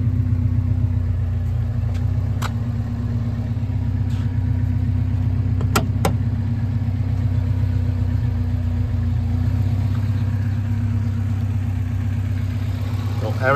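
A 1987 Alfa Romeo Spider Graduate idling after a cold start, a steady, even engine rumble held at close range throughout, with a few faint clicks over it.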